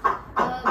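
A rooster crows hoarsely in two short, strained bursts, sounding as if it were choking, fairly close and with no talk.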